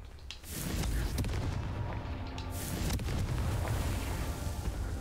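A Confringo fire spell explodes in Hogwarts Legacy, a booming blast followed by a sustained rumbling roar with sharp crackling hits, loud and close, and a second burst midway.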